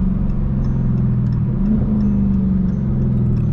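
A 2017 Dodge Charger 392 Scat Pack pulls up, its V8 holding a steady, loud low rumble from close by, with a short rise in pitch partway through as the engine picks up and then settles.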